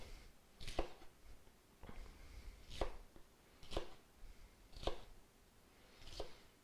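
A knife cuts bok choy at an angle on a cutting board, five or six crisp, close chops spaced about a second apart, with soft rustling of the leaves between strokes.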